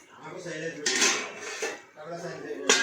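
A metal lid clatters back onto a pot of gunda cooking on the stove, a couple of bright clinks and scrapes heard close up while someone talks over the kitchen sounds.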